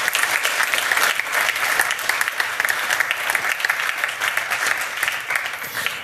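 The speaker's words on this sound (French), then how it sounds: "On peut encore l'applaudir." Audience at an innovation pitch event applauding a presenter, a full, even roar of many hands clapping that holds steady from start to finish.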